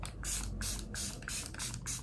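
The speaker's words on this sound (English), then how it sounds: "Give it a little shake and spritz." Pramy mattifying makeup setting spray is spritzed in five quick, even bursts of fine misty hiss, close and clear with short gaps between each pump.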